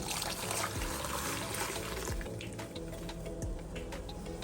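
Ice-cold water pours steadily into a pot while Kashmiri pink chai is being made, giving a continuous trickling and splashing close by at moderate volume, with no speech.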